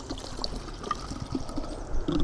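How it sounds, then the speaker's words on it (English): Liquid cleaning solution is poured into a pressure washer foam cannon bottle, giving a close, uneven trickling and gurgling with a few small knocks, and no talk. "we're just gonna literally pour the same solution in"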